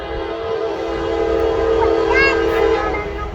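A Norfolk Southern intermodal freight train passes a grade crossing at close range, a steady loud rumble of rail cars with a sustained horn blast rising over it midway, continuous and dense throughout.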